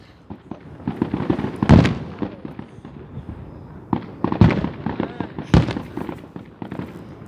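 Fireworks burst with several loud sharp bangs and crackling pops at irregular intervals, close by, with voices talking between the explosions.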